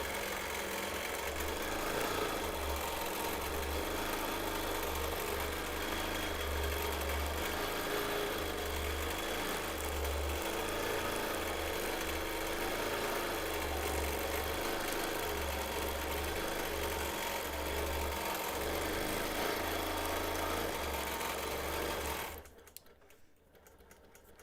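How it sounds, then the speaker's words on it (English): A sewing machine stitches a straight quilting line in a steady, continuous motor whir and needle drone for over twenty seconds, then stops abruptly into near-silence. "start stitching a line"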